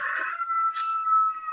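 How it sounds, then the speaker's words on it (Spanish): A rooster crows in one steady, drawn-out call during a session of a finance committee meeting, heard alone and fairly clear, not very loud. "Vino con el gallo a la reunión, a la sesión."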